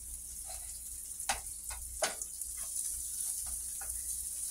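Dryad saddle mushrooms and dandelion flowers frying in a pan give a steady soft sizzle, with a few sharp spits and ticks scattered through.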